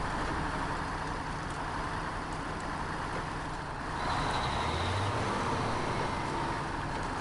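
Vehicle engines in a trucking video game drone steadily and loudly throughout, a dense continuous rumble that shifts in pitch slightly midway, with no talking over it.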